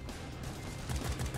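Video game gunfire crackles in a quick burst of shots, loud and dense, with the heaviest volley near the end of the brief moment.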